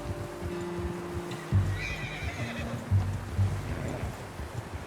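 Horse neighing in the video game Red Dead Redemption 2, with a loud whinny near the start and a few sharp snorting bursts and hoof clops over a steady background hum.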